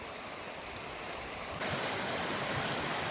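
Water of a creek at a washed-out road crossing where a bridge once stood rushes steadily in a dense broadband wash, growing louder and closer partway through, with no voices.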